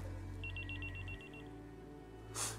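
A telephone rings for an incoming call, a rapid series of electronic trill pulses that stops after about a second, then a faint hiss and a brief click under a low background hum.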